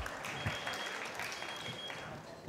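A theater audience at a science talk breaks into dense, continuous applause, a steady roar of many hands clapping close by with no pause.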